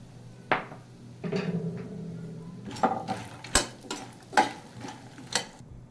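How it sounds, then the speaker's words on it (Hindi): Fox nuts (makhana) roasting in ghee in a pan give a series of clattering knocks and scrapes as they are stirred, with a brief soft sizzle early on, close and moderately loud. "अब इसी घी में मैं मखाने डाल रही हूँ, इनको भी मैं भून लूँगी।"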